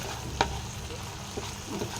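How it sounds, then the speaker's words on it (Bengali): Prawns frying in oil give a quiet, even sizzle broken by one sharp utensil clink early on and a couple of faint stirring scrapes later. "এই ভাজা হয়ে গেছে চিংড়ি মাছগুলো"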